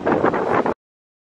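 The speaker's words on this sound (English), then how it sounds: "It's extremely windy and there are these trees." Gusty wind by the sea among trees roars and buffets the microphone, cuts out abruptly for a moment, then surges back in.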